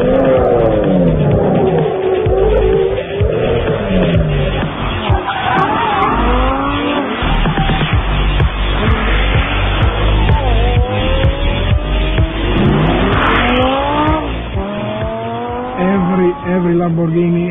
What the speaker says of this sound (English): The sound we generate with our engine is so special, so different.